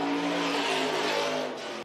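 Stock car at a dirt track raceway engine revving hard and loud, a sustained roaring drone that cuts off abruptly at the end.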